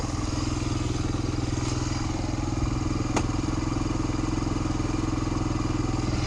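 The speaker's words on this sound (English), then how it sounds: "It's idling really high right now." A Honda Fourtrax 250x quad engine idling high, a steady close droning putter running continuously with a faint clatter and no talk.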